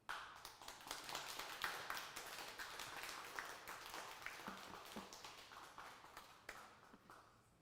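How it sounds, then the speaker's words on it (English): Audience at a Heffel live art auction bursts into sustained clapping after a record-setting painting sale, a steady patter of many hands in a room with individual claps standing out, moderately loud throughout. "That deserves clapping."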